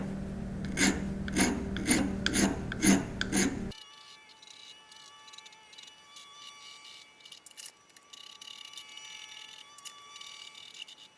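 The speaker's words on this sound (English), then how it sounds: "I'm just going to take a file and clean this up a little bit" A hand file scrapes the rough edges of a Simplex vise part in about six rhythmic, close, rasping strokes, followed by a quieter stretch of faint background noise.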